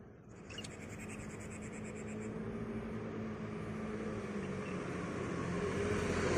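An airplane passes overhead on a hiking trail in the Datun mountains near Xiangtian Pond, a broad roar that swells steadily louder toward the end, with faint bird-like calls early on.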